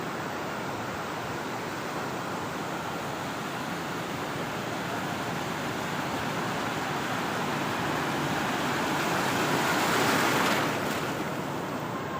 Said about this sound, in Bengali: আর আস্তে আস্তে অনেক ঢেউ আসছে, বড় বড় ঢেউ আসছে এই কোনায়